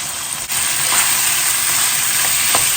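Shelled, deveined prawns sizzle loudly in a hot pan alongside cooked chicken for fried rice, a steady close frying hiss with a brief stir early on.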